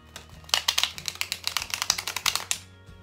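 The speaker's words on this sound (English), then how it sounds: "We'll start off with a shuffle. So I take my cards." Rapid crisp riffling of playing cards being shuffled, a burst of quick fluttering clicks that runs about two seconds, then a soft settle.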